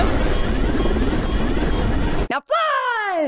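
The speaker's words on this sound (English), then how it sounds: "How did you get in the helicopter?" A helicopter in a movie: steady loud rotor and engine roar fills most of the moment, cutting out abruptly near the end, followed by a voice speaking over renewed noise.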